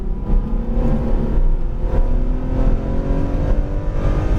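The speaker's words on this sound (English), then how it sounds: "Back on throttle as you straighten her out." A Ferrari F12 Berlinetta engine pulls hard on throttle, a loud, continuous rising roar with layered tones that climb in pitch as the car accelerates out of a turn.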